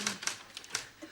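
Several crisp typewriter keystrokes clack in a quick, uneven burst, fairly faint and close.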